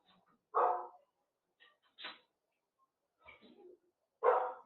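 Dog barking in short, separate bursts, about four loud barks spread over a few seconds with quiet gaps between, fairly close and with no talking.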